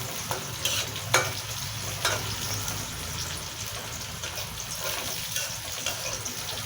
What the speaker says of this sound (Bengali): পেঁয়াজটা আমার ভাজা হয়ে এসেছে। এর মধ্যে আমি শাকগুলো দিয়ে দিব।